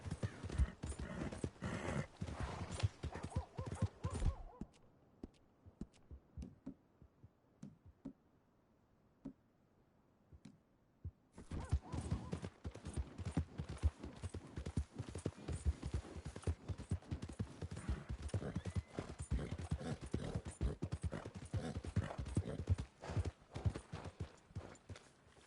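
Horse hooves galloping in the video game Red Dead Redemption 2, dense rhythmic clip-clop close and continuous, broken by a few seconds of near silence before resuming at full pace.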